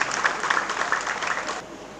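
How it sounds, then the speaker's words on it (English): Audience applause at a transportation ministry event, a burst of many hands clapping at moderate level that thins and drops away abruptly near the end. "please give the Ministry of Transportation and all the team a big round of applause"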